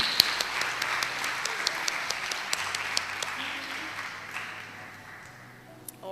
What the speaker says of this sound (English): So again, one round of applause for our finalists.